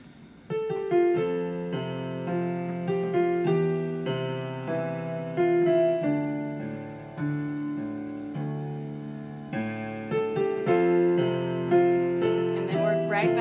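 Solo piano plays the melody and chords of a song, steady close-miked notes and chords ringing in a continuous flowing passage without any voice.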